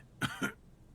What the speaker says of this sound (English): Coughs, then continues.